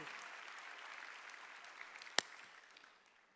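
Church congregation at a Sunday worship service applauding, a soft, steady wash of clapping at moderate distance with one sharp louder clap near the end, fading out at the close.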